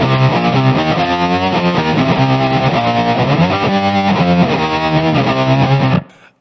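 Heavily distorted electric guitar chords ringing out loudly for several seconds, then cutting off abruptly into silence.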